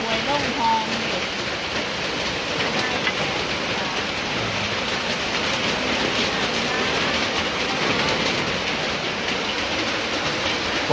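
Heavy rain pours steadily during a storm at a rural Thai home, a dense unbroken hiss that stays loud throughout, with voices speaking faintly beneath it.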